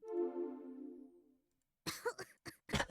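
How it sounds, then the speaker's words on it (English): Two characters in the video game Robotics;Notes Elite cough from dust, a few sharp, close coughs in quick bursts following a fading musical tone, quiet overall. "Stepping one foot inside is enough to make the both of us cough up a storm"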